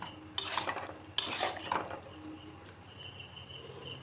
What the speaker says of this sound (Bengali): অল্প গ্রেভি রেখেছি এই গরম মশলাটা মিশিয়ে নিচ্ছি